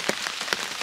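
Rain falls on a tarp over a hammock at a wild camp, a steady broadband patter close overhead with a few heavier drop hits standing out.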